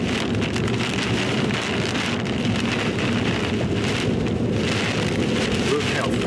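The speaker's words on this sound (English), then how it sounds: "Look how fast those rain curtains are whipping in front of us." Heavy rain from a supercell storm pours steadily in a dense, hissing wash, loud and close for the full length, with short gusty surges and no voices.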